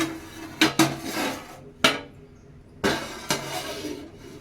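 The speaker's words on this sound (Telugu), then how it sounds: "మళ్ళీ మూత వేసుకుంటున్నా" A metal lid is set back onto a pan of moon biscuits, giving several sharp clanks and clinks spaced irregularly, close and loud, with quiet gaps between them.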